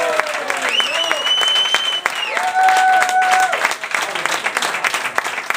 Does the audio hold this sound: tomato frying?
no